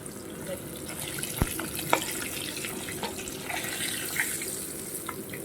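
Pieces of fish frying in hot oil until reddish-brown, a continuous fine hiss and sizzle with scattered crackles and pops, close and even throughout.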